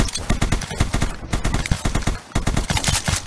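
Shotgun fire in a video game: rapid, loud, closely spaced shots in dense rhythmic bursts with only brief gaps.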